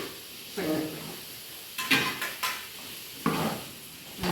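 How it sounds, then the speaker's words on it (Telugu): Ash gourd pieces go into a hot buttered pan, with bursts of sizzling and stirring scrapes in a few distinct episodes separated by quieter hiss, close and moderately loud. "బూడిద గుమ్మడికాయ ముక్కలు వేస్తున్నాను."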